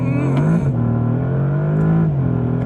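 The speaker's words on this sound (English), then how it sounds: "To use launch control in this car, I'm going into the sport drive mode, holding my foot on the brake, hitting the throttle," A 2025 Bentley Continental GT Speed launching under launch control from sport mode: a loud, close engine roar holds a strong steady tone, with brief pitch dips near the start and again late as it pulls hard.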